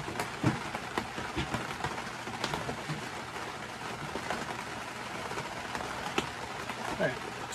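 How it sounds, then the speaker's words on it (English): Steady rain falls outside, a dense hiss with scattered drop taps and faint background noise continuing throughout, fairly quiet and distant. "It is raining outside, so I do excuse the sound."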